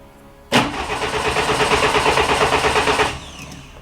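A Lotus 7 Birkin kit car engine cranks and catches with a sudden loud start, then runs briefly at a rough, pulsing idle before cutting off, recorded close by.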